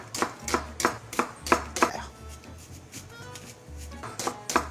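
An onion chopped with a knife on a cutting board, a run of crisp, evenly spaced chops with a short pause mid-way before the cutting resumes, close and clear.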